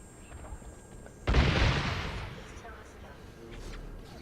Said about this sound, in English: Wow, epic explosions.